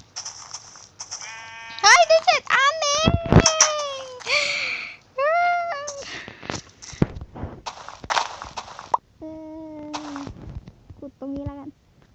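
Sheep bleating in the video game Minecraft, several wavering bleats in bursts across the clip, fairly close and loud, mixed with footsteps and game sounds while people talk and shout over them.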